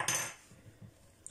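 Spoon clinking against a dish while stirring chili sauce, a quick bright metallic scrape followed by faint soft stirring, close and quiet.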